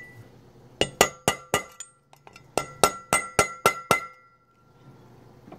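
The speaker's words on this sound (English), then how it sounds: "you take your hammer. A few love taps" Hammer tapping a valve stem seal into a Honda K20 cylinder head, two sets of sharp metallic taps, four and then six, evenly spaced and close up in a quiet room.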